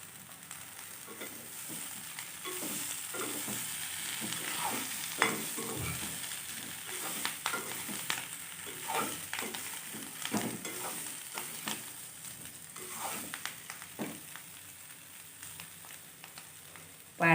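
Baby potatoes fry in a pan as a spoon stirs them, with a steady soft sizzle and repeated scraping strokes that come and go throughout.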